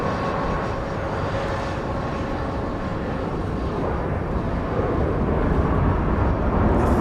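A specially painted airliner comes in to land at Dallas Love Field, its engines a steady broad roar that swells slightly toward the end, heard from a distance without any talk.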